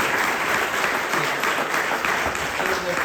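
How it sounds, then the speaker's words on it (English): Audience applause at a meet-the-candidates night, a dense, sustained roar of many clapping hands filling the room evenly, fairly loud and continuous from start to finish. "let's have a round of applause for these folks"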